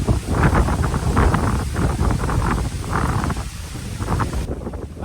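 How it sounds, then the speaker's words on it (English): Strong wind gusts at the Thai Buddhist temple Wat Tham Phra Phothisat buffet the microphone in loud, uneven rushes, roaring and fluttering continuously with no voices. "The wind is still blowing strongly"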